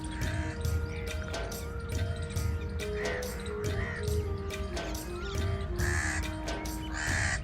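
Crows, lapwings and sparrows call across the countryside at sunrise, repeated caws and sharp chirps sounding at moderate distance over steady outdoor ambience.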